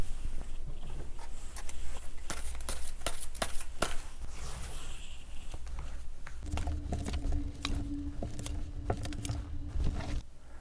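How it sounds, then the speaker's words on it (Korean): Tarot cards are shuffled and drawn in a run of soft riffling and tapping, close and quiet, with sharper slaps early on and a faint steady hum in the background later. "이어서 카드 뽑아보도록 하겠습니다"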